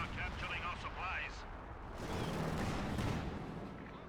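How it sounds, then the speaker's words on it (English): Artillery fire in Company of Heroes 2 rumbles as low, distant booms beneath a voice talking throughout. "I think I hear artillery going in the base."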